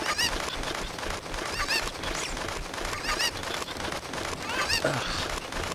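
Chickens in Zelda: Ocarina of Time squawk and cluck repeatedly, several sharp bird calls popping up at irregular intervals over a busy, noisy game background.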